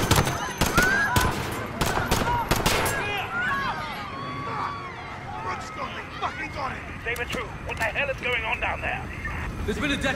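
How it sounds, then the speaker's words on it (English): Gunfire in Call of Duty Modern Warfare: bursts of loud rapid shots crack at the start, then sporadic shots continue under shouting voices, sirens and street chaos. "Shots fired"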